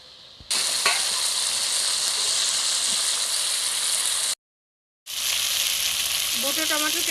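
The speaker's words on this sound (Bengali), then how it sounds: "মশলা কষানোর জন্য সামান্য একটু জল দিলাম।" Turmeric, cumin and coriander powder sauté with a splash of water for a koi fish curry, producing a loud, close hissing sizzle that cuts out briefly, then resumes, with a faint warbling tone near the end.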